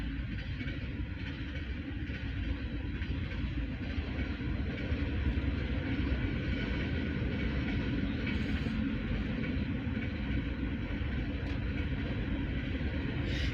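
A CSX manifest freight train heads west past Erie, Pennsylvania, giving off a steady, low rumble of rolling cars at moderate distance that continues unbroken throughout.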